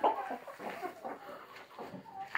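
Hen clucking among free-ranging backyard chickens, a rooster nearby, short repeated clucks at moderate distance with faint outdoor background and no talk.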